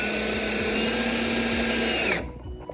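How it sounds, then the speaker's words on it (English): A power drill drives a screw into a garage shelf board with a loud, steady whine that cuts off abruptly near the end, followed by a few faint handling knocks. "So I'm gonna go ahead and drill this in"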